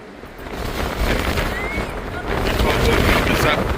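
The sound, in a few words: strong gale-force wind at Cape Point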